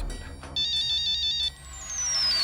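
A mobile phone rings with an incoming call, a bright electronic ringtone melody repeating loudly and close in pulsing phrases, briefly pausing before continuing.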